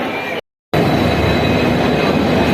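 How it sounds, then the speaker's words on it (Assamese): A train rolling into a station, loud continuous broadband rumble and rail roar close by, broken by a short total dropout near the start before the heavy noise resumes steadily. "আমাৰ ট্ৰেইন ফাইনেলি আহি পালে"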